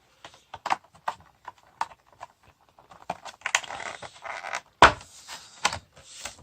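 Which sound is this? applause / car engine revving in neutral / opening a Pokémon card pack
opening a Pokémon card pack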